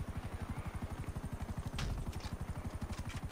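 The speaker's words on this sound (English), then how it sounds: "Mate, you might want to shoot the helicopter." A helicopter in the video game GTA 5 gives a steady, fast rotor thump at an even rhythm, fairly close and continuous throughout, with no talking.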